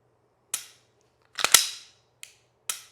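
A PSA Dagger pistol fires four sharp shots during a function check after a burndown test, loud and close, with the middle two in quick succession and the rest spaced apart in a quiet room.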